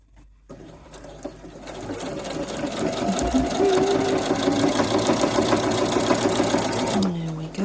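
A sewing machine stitches through fabric and fleece at a stitch length of 3, a close, rapid mechanical whirr and clatter that runs steadily for several seconds before slowing to a stop.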